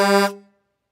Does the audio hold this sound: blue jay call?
no